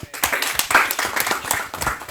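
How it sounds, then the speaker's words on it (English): An audience at a school event claps in a brief, uneven burst, with many hands striking close together and loudly. "clap for her"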